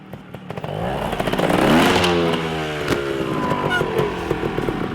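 A motorcycle revs and rides nearby on a housing estate, its engine note rising and falling with rattling, scraping clatter over about five seconds.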